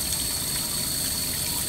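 Water flowing at full flow through brand-new household filters, including two I2000 units, a steady rushing gush with a faint high whine on top, continuous and close.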